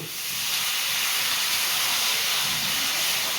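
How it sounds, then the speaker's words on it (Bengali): A little water hits a hot pan of onion and green chili and sets off a loud, steady hiss of sizzling steam that swells quickly and holds. "একটু অল্প জল দেবো, সামান্য।"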